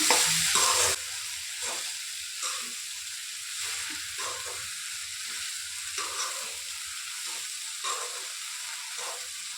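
Sponge gourd (torai) frying in a pan for an Assamese home dish, a steady broadband sizzle with occasional stirring scrapes, close and moderately loud, with no talking.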